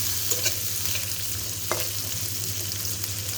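Potatoes fry lightly in a pan at a village cooking fire, giving a steady soft sizzle with a few brief scraping stirs and a faint low hum underneath, no voices.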